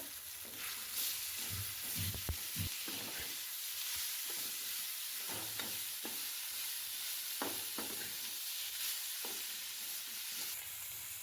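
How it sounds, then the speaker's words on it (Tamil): Tomato, onion and mint being sautéed in a pan for a chicken fry, with a steady sizzle and repeated scraping stirs of a spoon throughout, close and moderately loud, no talking. "சேர்த்துட்டு நல்லா வதக்கி விட்டுக்கோங்க"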